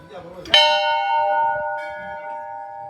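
A metal bell at the Golu Devta temple is struck once, a bright clang that rings on with a long, slowly fading tone, while indistinct voices murmur in the background.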